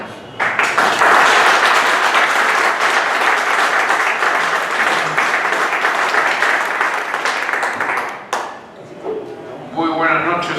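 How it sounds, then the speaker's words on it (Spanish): An audience applauds a lecture speaker at an anticorruption talk on ethics in election campaigns, with loud, dense sustained clapping for about eight seconds before it thins out and a voice follows. "agradecer ese aplauso tan efusivo"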